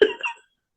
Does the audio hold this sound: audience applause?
no